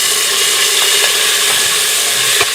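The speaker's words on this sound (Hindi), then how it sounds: "अब इसमें डाल दीजिए 2 बड़े बारीक कटे प्याज।" Finely chopped onions hit hot oil tempered with whole garam masala spices for a jackfruit curry, giving a steady, loud, close sizzle and hiss with a few faint stirring clicks and no voices.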